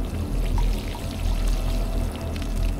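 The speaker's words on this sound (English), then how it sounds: "Let's not pour water everywhere, shall we?" Water pours steadily as plants are watered in a house-sitting video game, a continuous close stream over a low, rumbling background with no speech.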